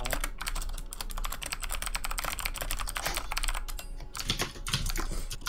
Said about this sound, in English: Whoa, that's some aggressive typing.